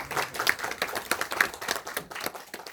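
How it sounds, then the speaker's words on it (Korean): Audience at a 2024 political discussion forum in Sejong gives brief, scattered clapping to welcome an introduced guest, light and irregular with no talking. "박수 환영합니다."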